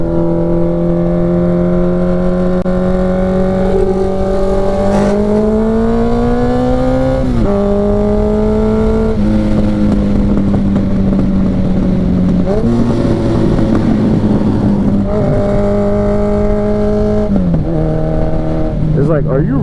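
Honda Nighthawk CB750 motorcycle riding through a tunnel: a loud, close engine drone with several stepped pitch drops and rev blips as the rider downshifts, continuous throughout.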